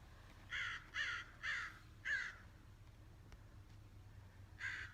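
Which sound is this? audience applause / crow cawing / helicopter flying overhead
crow cawing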